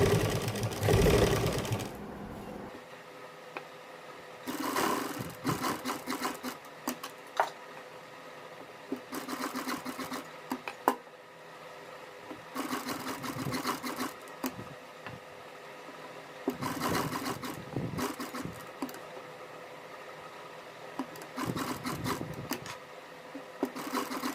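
Sewing machine stitching alongside piping on a neckline, running in short irregular bursts of rapid mechanical chatter separated by quiet pauses, close and fairly faint.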